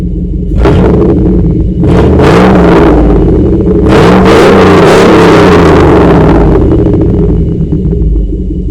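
A 1997 Chevrolet 5.7-litre Vortec 350 V8 with headers, a performance cam and stock exhaust manifolds revs loudly and steadily, with several sharp throttle blips over a rough, lopey rumble, close by and without talk.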